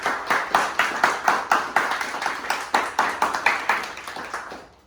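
Audience clapping for a trophy winner at a motivational session for aspiring actors, a loud, fairly rhythmic run of claps from a modest crowd, continuing steadily throughout before cutting off at the end.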